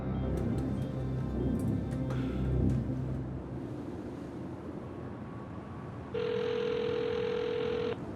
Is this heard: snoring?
no